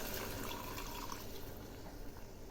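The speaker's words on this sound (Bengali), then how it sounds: "এবার আমি এর মধ্যে 1 কাপের একটু বেশি জল দিলাম" Water is poured into a pan of prawn curry, a faint, steady liquid rush and trickle that fills the short moment, heard alone with no talk.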